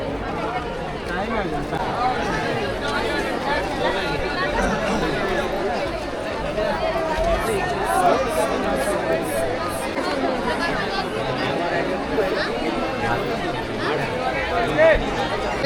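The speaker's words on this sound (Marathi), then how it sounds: "खरंच गर्दी आहे इकडे" Dense crowd chatter fills the street at the Chhabina festival in Mahad, a constant close babble of many voices with occasional louder shouts and bursts.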